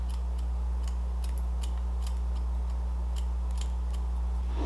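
Scissors snip through long layers in thin hair, giving a steady series of quick, crisp close cuts over a constant low electrical hum.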